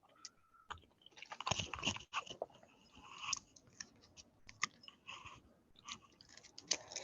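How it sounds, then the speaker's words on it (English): A participant chews with an open microphone on a Zoom call, making close, irregular wet crunches and clicks in scattered bursts, with no voices. "Oh, you're the chewing sound."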